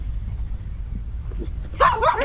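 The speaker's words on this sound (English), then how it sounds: "If I walk towards her, she'll probably woof." A dog barks in a burst of close, loud woofs near the end, after a quiet outdoor stretch on a pea-picking plot in the Alpujarras mountains of Spain.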